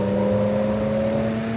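A BMW M5 E34's 3.8-litre 24-valve S38 straight-six, rated 340 horsepower, holds a steady high-pitched rev with a smooth whirring mechanical tone, close and continuous.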